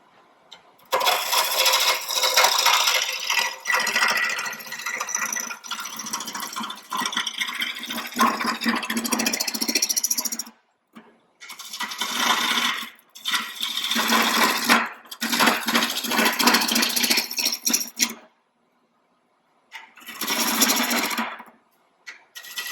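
A wood lathe spins a cedar snowman blank at about 800 RPM while a tool cuts it round, giving loud bursts of scraping, rasping noise broken by short pauses, up close.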